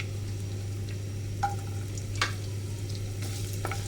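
Garlic frying in hot oil in a pan, a soft steady sizzle under a low hum, with a few faint scraping stir sounds, quiet and close, no talking.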